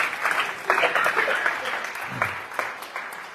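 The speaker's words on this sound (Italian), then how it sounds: "Facciamo un applauso." An audience breaks into steady applause, a dense, loud rush of clapping that carries through the whole moment, with a voice speaking over it.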